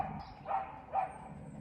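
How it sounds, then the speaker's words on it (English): A dog barks twice nearby, two short evenly spaced barks over a low background rumble. "There is a dog going absolutely nuts right now."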